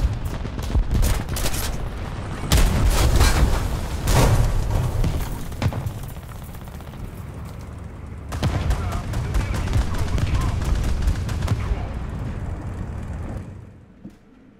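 Machine gun and anti-aircraft fire in the War Thunder ground realistic battle, heard as sustained loud bursts of gunfire and booms throughout, easing off near the end, with speech over it.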